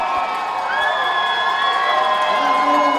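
Crowd cheering and shouting at a track race at the Penn Relays Summer Showcase, a steady, fairly loud roar of spectators that holds for the whole stretch. A commentator's voice runs over the crowd.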